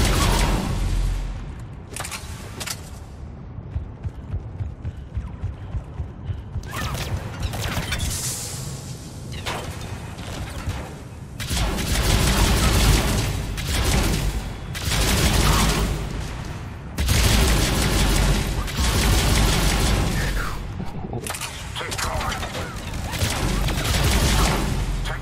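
Repeated bursts of heavy gunfire from a new weapon in the PC game Mass Effect 3 during the Omega DLC, loud sustained volleys separated by brief pauses, with booming impacts and mechanical clanks between them.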